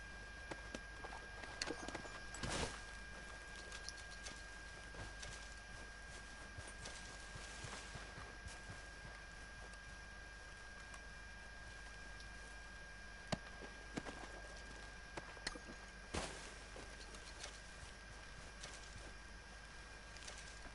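Horse hooves clop faintly while riding in Red Dead Redemption 2, a soft, steady rhythmic patter with a few louder thuds standing out over quiet ambience.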